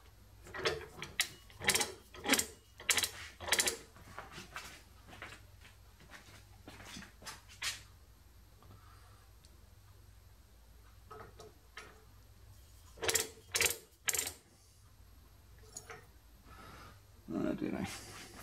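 A powered lathe slotter cuts a keyway in bursts of sharp, rhythmic clicking strokes, close and fairly loud, with quiet pauses between runs of cuts.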